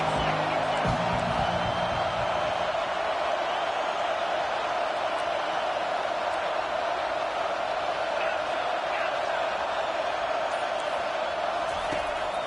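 Football stadium crowd roaring on a big third down for the defense, a sustained loud wash of cheering and noise from the stands, with a commentator's voice over it.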